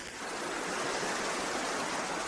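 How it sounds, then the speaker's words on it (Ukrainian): A river runs past an old stone house in Spain, its dense, even rush of water filling the space up close and loud, with no voices present. "Біля будинку тече річка."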